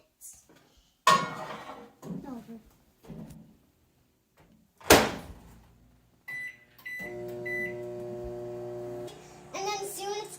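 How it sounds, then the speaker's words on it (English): A microwave oven heating masala papad hums steadily for a couple of seconds, preceded by door clunks and handling clatter, with someone speaking and a beep near the end. "So now we have to open the microwave and put the popper in for"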